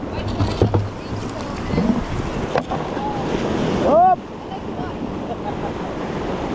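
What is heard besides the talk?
strong sea waves from a passing ship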